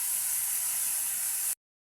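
Tomatoes sizzle in a hot pan with a steady, close, loud hiss that runs unbroken before cutting off abruptly.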